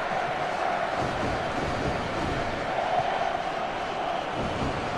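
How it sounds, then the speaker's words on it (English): Stadium crowd noise in the FIFA 13 football video game, a continuous roar of spectators holding at an even level throughout with no distinct peaks. "that got the crowd excited, that attack"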